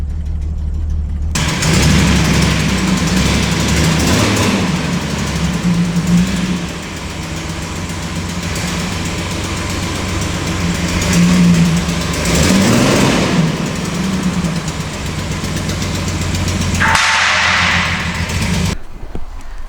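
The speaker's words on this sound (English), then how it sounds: "it has a driveline slap, and I think it may be the two-piece tail shaft, or it could be the center bearing" Steady engine and driveline drone from a car with driveline slap, thought to come from a worn two-piece tail shaft or center bearing, running continuously with rising surges and no talk.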